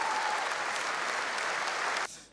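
Sustained audience applause at the Echo 2015 music awards ceremony, dense and steady for about two seconds before dropping off abruptly, with a faint voice underneath.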